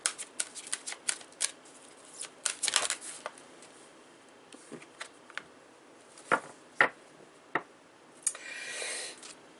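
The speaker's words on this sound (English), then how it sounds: "Let's pull out a few more cards here." Tarot cards are pulled and shuffled by hand, giving a series of crisp riffling flicks and soft slaps, close and fairly quiet, with pauses between bursts and a longer shuffle at the end.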